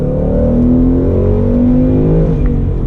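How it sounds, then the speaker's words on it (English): A 2019 Ford Mustang GT Performance Pack 2 with a V8 engine accelerates in second gear, a loud, steady, rising engine note that fills the clip with no talk. "really makes a wonderful sound from that V8 engine"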